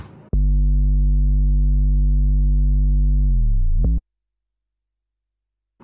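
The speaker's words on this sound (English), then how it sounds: "And how is my 808?" A single sustained 808 bass note from a hip-hop style music production, loud and pure with a deep sine-like tone, holding steady for about three seconds before sliding down in pitch and cutting off abruptly into silence.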